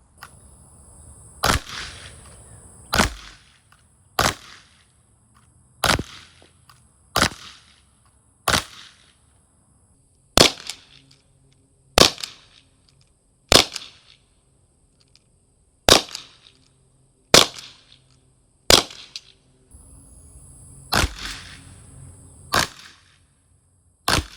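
About fifteen sharp, loud single shots from TR50 and TP50 Gen 3 defense airgun launchers fired at close range, spaced a second or two apart, each a crisp crack with a short decay and no talk between.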